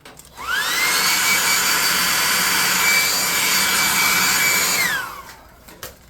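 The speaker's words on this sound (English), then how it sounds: "Let's hit this with a hairdryer again." A hairdryer switches on and blows with a steady high whine for several seconds, drying glue on cardboard terrain, then winds down and stops.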